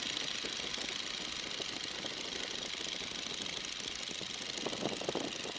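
A Boeing N2S-3 Stearman biplane's engine drones steadily after being throttled back to 1,500 RPM, heard from inside the aircraft as a constant, even rumble with no pauses.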